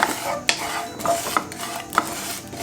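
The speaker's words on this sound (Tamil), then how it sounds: "இப்போ கசகசாவை அதே பேனில் போட்டு நம்ம லைட்டாக வறுத்தா போதும்" Poppy seeds are dry-roasted in a pan and stirred with a metal spoon, giving sharp scraping clinks and taps at an uneven rhythm, close and fairly quiet, with no talking.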